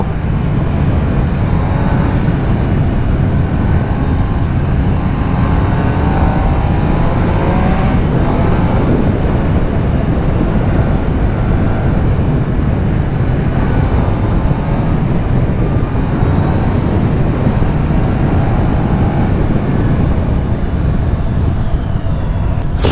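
Riding a Triumph Trident 800 motorcycle on the road, with a steady, loud roar of engine and rushing wind that runs unbroken throughout and no one talking.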